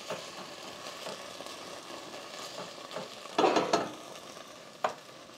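Thai green curry paste frying and being stirred in a pan, a faint steady sizzle with scraping stirs that grow louder near the end, no talking.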